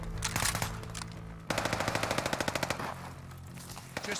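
A BAR rifle in a video game firing a sustained automatic burst of about fifteen rapid, even shots, loud and close, after some earlier mixed game noise.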